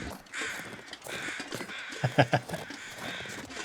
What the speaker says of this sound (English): These crows are so loud.